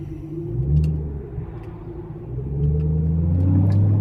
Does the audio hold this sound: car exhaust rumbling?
yes